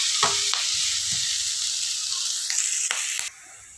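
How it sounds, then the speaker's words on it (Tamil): Pirandai (adamant creeper) sautéing in a pan, a bright continuous sizzle with a few clinks and scrapes of stirring, close up, before the frying noise abruptly drops away near the end. "இந்த அளவுக்கு நல்லா வந்து சுருளை வதக்கிக்கங்க"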